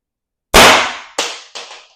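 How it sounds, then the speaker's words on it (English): Paintball marker, an X.68 or Intrubuster with a 6-inch barrel, firing one sharp loud pop followed by two fainter echoes, close and alone in silence. "Fourth shot."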